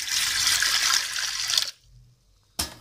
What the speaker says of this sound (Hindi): पानी मैंने डाल दिया है